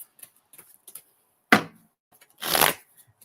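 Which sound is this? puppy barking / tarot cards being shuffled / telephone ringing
tarot cards being shuffled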